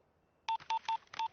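Four short, clean telephone keypad tones in an even sequence, close and clear against near silence.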